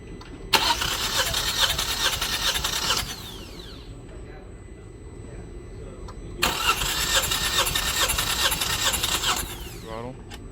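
Car engine cranking with the throttle held wide open during a compression test: two long bursts of steady, rapid starter churning, each about three seconds, separated by a quiet pause, close and loud.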